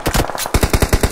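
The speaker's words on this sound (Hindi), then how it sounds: "गोली चलाते रहो।" Rapid automatic gunfire in PUBG Mobile, short bursts of sharp shots repeating in quick succession, loud and close with no talk over them.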